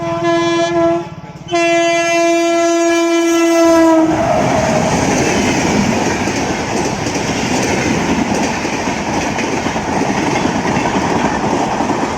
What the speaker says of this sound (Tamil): எந்த ட்ரெயின் போகுதுன்னு தெரில லோக்கலாக இல்லைன்னா எக்ஸ்ப்ரெஸ்ஸாக